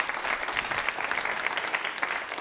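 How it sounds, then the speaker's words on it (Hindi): An audience at a women's association quiz show on a cleanliness campaign breaks into brisk, steady clapping, moderately distant and fairly quiet, without talk over it. "जोरदार तालियां, जोरदार तालियां बजाइए सर।"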